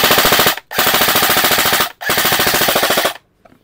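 Loud, close bursts of full-auto fire from a Krytac Kriss Vector airsoft electric gun: three long, rapid strings of evenly spaced shots with brief pauses between, ending abruptly in near silence.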